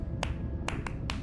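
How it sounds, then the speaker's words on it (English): Sperm whale coda clicks in the Eastern Caribbean pattern, four sharp, brief clicks spaced across about a second over a dense low underwater rumble. "Sperm whales make clicks in sort of rhythmic patterns that we call codas."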